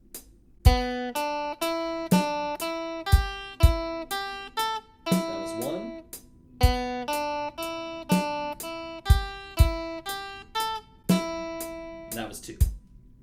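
Guitar runs a three-note pentatonic sequence up the scale in steady, evenly spaced plucked notes at a moderate tempo, each ringing briefly; a voice speaks a short phrase near the end.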